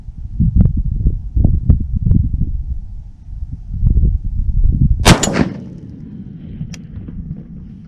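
A .50 caliber rifle firing a single loud shot while being zeroed at close range, a sharp blast with a ringing tail after low rustling and handling noise.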